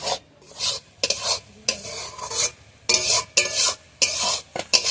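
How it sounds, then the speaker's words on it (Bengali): Gram flour (besan) roasting in a pan while being stirred, with bursts of scraping and rasping spatula strokes in an uneven rhythm between short pauses. "বেসনটা ভালোভাবে ভেজে নিয়েছি"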